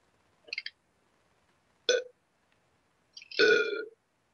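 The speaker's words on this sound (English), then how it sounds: "There's the burp that we need." Three burps come one after another with silence between them, a short small one, then a quick one, then a longer, loud, drawn-out belch.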